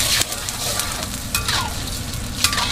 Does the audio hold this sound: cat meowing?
no